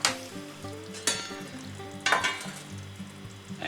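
Pork and chicken adobo in a pan gives a crackling sizzle with three sharp bursts of clatter against a steady bubbling hiss, close by and with no voices.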